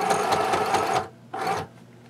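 A sewing machine runs in a steady, loud burst of stitching across a fabric travel case belly band, stops briefly, then stitches again in a shorter run, with no talking.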